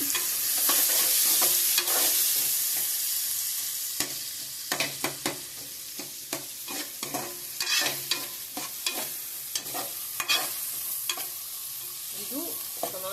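Onion pieces fry in oil for a dry fish curry, a steady loud sizzle with repeated scraping stir strokes and clicks of a spatula against the pan throughout.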